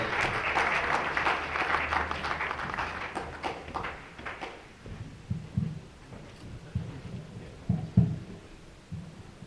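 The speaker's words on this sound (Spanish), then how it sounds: "Le damos un fuerte aplauso y pasamos a su presentación." Audience applause for a lecture speaker at a talk on urban evangelization: a dense burst of clapping for about four seconds that thins out into scattered, isolated claps and small knocks.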